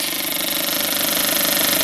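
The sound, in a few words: fuel injector pulsing on engine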